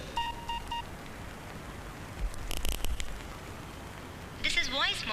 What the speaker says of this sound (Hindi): आप किसी फ़ोन से मेरा मोबाइल नंबर डायल कीजिए और स्टार दबाइए